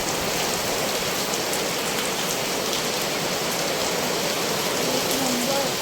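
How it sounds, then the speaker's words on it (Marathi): Heavy rain pours steadily and loudly on surfaces, a dense continuous hiss without breaks, with no talking. "जाम बेकार पाऊस पडतो बघा पाऊस बघा काय"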